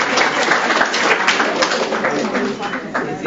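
Warm applause from an audience at a credit union's annual meeting, steady dense clapping filling the whole stretch, with voices talking over it.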